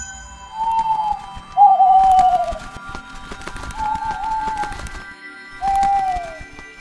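Aviary bird sound effect: four drawn-out, slightly falling whistled calls, clear and fairly close, separated by short pauses over a faint background with scattered light clicks.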